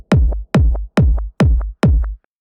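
Techno rumble kick texture run through an auto filter: five heavy thumping hits roughly every half second, each followed by a short filtered tonal blip, loud and isolated, ending in silence.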